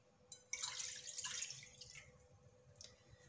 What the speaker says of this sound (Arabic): ندير هادوك زوج كيسان تاع حليب دافي